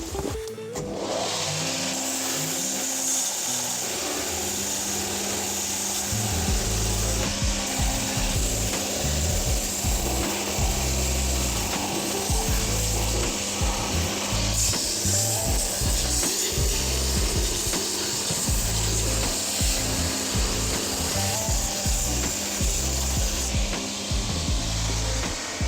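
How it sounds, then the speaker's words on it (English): An old boot sole being run on a workshop machine to burst the old stitches, giving a loud, continuous motor drone with grinding and rasping, close and without speech. "we're just going to run this sole on the machine and we're going to burst all these old stitches"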